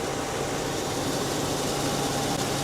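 A cold engine fitted with early Bosch CIS fuel injection idles smoothly, giving a continuous, even hum with a broad steady hiss, close and constant without any revving.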